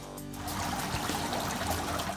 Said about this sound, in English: Water flows from the outside in, coming up through stone in the middle of the building.